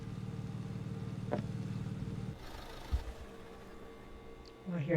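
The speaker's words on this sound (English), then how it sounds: "Oh, I hear a car." A car engine idles in a Roblox horror game, a low steady hum that cuts off partway through, followed by a thump and some faint clatter as a voice talks over it.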